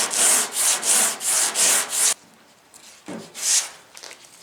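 Hand sanding of old paint on a truck tailgate: five quick, even back-and-forth scrubbing strokes, a pause, then two more strokes, close and loud with no talk.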